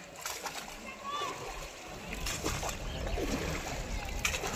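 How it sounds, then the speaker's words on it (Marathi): Oars of a rowing boat dip and splash in river water on a boat trip at Narsobachi Wadi, with repeated close sloshing strokes throughout and faint voices in the background. "पाण्याचा सुंदरसा असा आवाज आणि त्यात हे वल्लव आणि वलवायचा असा सुंदरसा आवाज"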